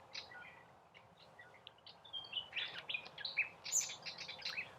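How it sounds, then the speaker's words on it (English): Several birds chirp and tweet in quick, overlapping high calls against a quiet background, growing busier and a little louder toward the end. "Can you hear the birds?"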